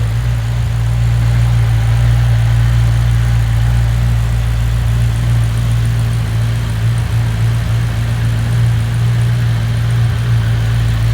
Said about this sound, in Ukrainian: Ось так працює цей двіжок.